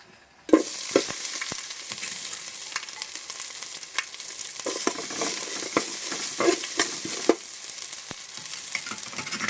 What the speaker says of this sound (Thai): ผัดเครื่องเครื่องต้มยำก่อนนะครับ สูตรของผมนะครับ ชอบผัดก่อนนะฮะเพื่อให้ น้ำมันหอมระเหยออก